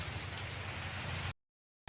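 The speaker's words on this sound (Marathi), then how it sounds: "आज पण आमच्याकडे 4 वाजता पाऊस चालू झाला, बघू शकता बघा." Evening rain falls at a farm, a dense, steady hiss for about a second before it cuts out abruptly and briefly returns.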